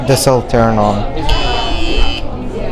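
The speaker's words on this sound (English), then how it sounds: "If I cut the beam, you hear a buzzing sound." A high school science fair laser tripwire alarm sounds a steady, loud electronic buzz for about a second, right after a person speaks.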